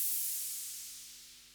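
Long synth noise hit used to accentuate cymbals: a single bright hissing wash that fades slowly and steadily, quiet and without other sounds.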